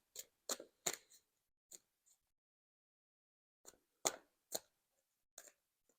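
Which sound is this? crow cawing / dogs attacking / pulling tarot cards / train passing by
pulling tarot cards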